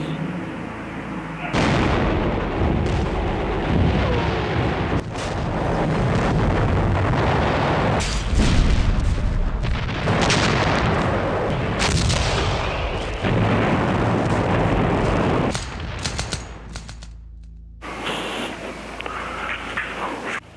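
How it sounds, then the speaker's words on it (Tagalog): Dense, continuous barrage of heavy booms and blasts, like aerial bombs and artillery falling on Intramuros in the Japanese raid of December 1941, loud throughout with a brief lull near the end and a possible faint voice beneath. "Ipinaulan na ng bomba."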